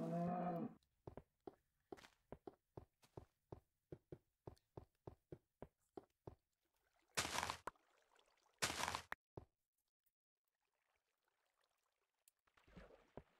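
Cattle mooing on a video game farm arrives as a low moo at the start, followed by a long run of soft rhythmic taps and two louder bursts of noise, with a faint sound at the very end.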